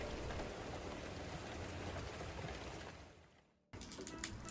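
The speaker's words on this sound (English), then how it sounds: "it continued to pour all morning" Steady, dense rain pours in a continuous hiss, fading briefly near the end before resuming with scattered drips and patter.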